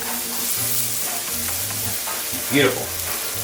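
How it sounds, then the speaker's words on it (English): Vegetables sauté in a pan while being stirred. A steady close sizzle runs throughout with a short scraping stir near the end, and one brief spoken word sits over it. "Okay, you can hear some more of that sizzling going on."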